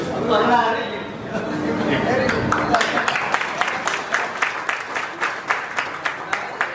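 An audience breaks into applause that swells into steady, rhythmic clapping, with crowd chatter and voices beneath it at the start before the clapping dominates.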